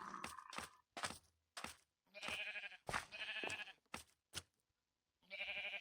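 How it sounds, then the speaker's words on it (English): Big woolly sheep bleating in Minecraft, several short repeated bleats in quick succession with brief pauses, clear and alone. "And they have big woolly sheep."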